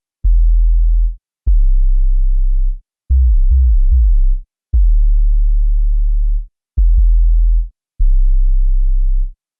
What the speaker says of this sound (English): starting firstly with a sine wave with some master tune modulation from an envelope LFO